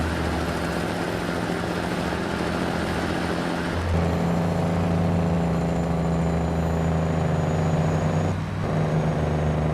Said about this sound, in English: Pretty good jake brake.